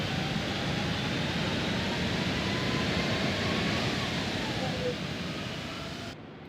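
A330 thrust reversers in the X-Plane 12 flight simulator give a steady, broad roaring rush that holds level for several seconds and then eases off toward the end, loud and continuous.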